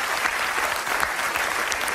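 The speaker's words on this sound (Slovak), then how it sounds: "zaslúžia si váš potlesk" Audience applause at a comedy improv show, a dense continuous wash of clapping from a full crowd, steady and fairly loud throughout with no speech over it.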